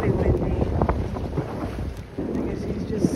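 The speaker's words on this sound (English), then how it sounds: "It's windy, fairly windy." Gusty wind buffets the microphone on a sailing boat at sea between Falmouth and Ireland, over a low rumble of water and hull, with faint creaks; loud and rough, rising and falling.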